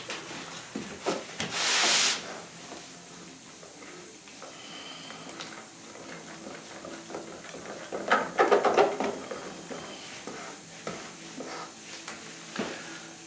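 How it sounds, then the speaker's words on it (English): Flow coat gelcoat resin being mixed by hand in a container, with soft, quiet scraping and rubbing strokes, a brief louder hiss near the start and a cluster of sharper taps and scrapes midway. "we're going to give our flow coat a really good mix."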